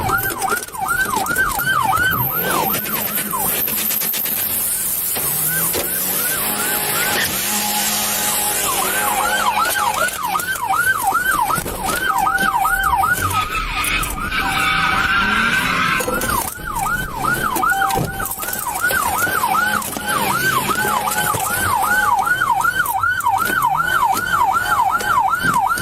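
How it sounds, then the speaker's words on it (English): A police car siren wails in repeated rising and falling cycles, loud and continuous over engine and road roar during a high-speed chase and PIT maneuver, with bursts of harsh noise as a car is pushed off the road. "police executed a pit maneuver, causing the vehicle to slide off the roadway into the yard of a house"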